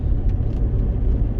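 A 2013 Mitsubishi Shogun with the 3.2 engine accelerates under a pressed throttle, giving a steady, close low rumble that holds evenly for the whole stretch without speech.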